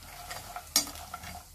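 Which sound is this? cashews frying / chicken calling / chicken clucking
cashews frying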